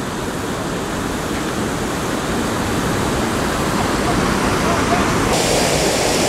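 Waterfall on Shoal Creek just below a dam, a steady broadband roar of falling water that stays loud and continuous throughout, with no other sound breaking through.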